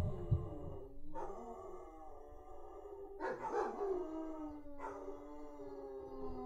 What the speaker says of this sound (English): That's my dogs howling at sirens.